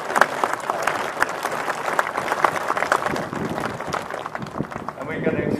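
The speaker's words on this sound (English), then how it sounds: "And we can extend that applause to Private Gustafson, 3PBCLI, our newest and" A crowd applauds at an outdoor airborne reunion parade, with steady dense clapping that holds at a moderate level throughout.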